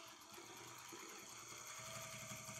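A sewing machine hums with a fast mechanical chatter while stitching quilt pieces together, faint but steady throughout with no voices.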